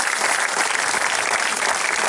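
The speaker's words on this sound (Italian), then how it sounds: "Facciamogli un applauso a Don Angelo." Audience at a live outdoor Italian orchestra concert for the San Francesco da Paola feast applauding, a dense steady wash of many hands clapping, loud and continuous throughout.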